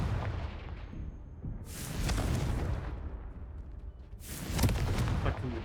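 Confringo explosion spell in Hogwarts Legacy, two loud booming bursts a couple of seconds apart, each a sharp blast with a rumbling tail over a low background.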